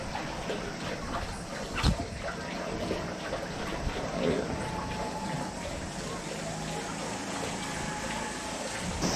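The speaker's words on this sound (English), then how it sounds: "We made it to the waterfall." Broad, steady rushing water from a waterfall at a mountain swimming spot near Hakusan, Japan, filling the whole span evenly at moderate loudness with a brief sharp knock near the start.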